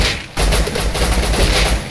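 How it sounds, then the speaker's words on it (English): Rapid gunfire from a shooter video game bursts in after a short quiet lead-in and keeps up as a loud, dense volley with sharp, close shots. "So, second headshot, Max."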